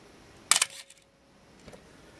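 A Canon FTb film camera shutter fires at 1/15 second, giving a sharp mechanical clack with a short whirring tail, close and quiet in an otherwise silent room, followed by a faint second click.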